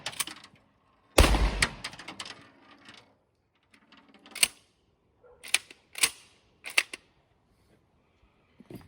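A shotgun fires with one loud close blast, followed by sharp clicks and clacks of the action being cycled by hand, with quiet pauses in between.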